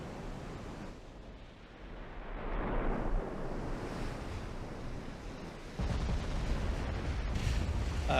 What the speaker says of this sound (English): here you are firing 11-inch guns at me